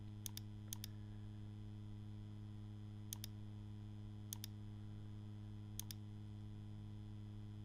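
Computer keyboard keys pressed while designing a greeting card on screen: a few isolated double clicks spaced several seconds apart over a steady electronic hum, with no voices.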